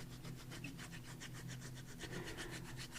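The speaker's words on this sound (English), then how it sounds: "I'm just rubbing my hands over it." Hands rubbing back and forth over a glue bottle, a soft, steady, rhythmic friction close by with no voices.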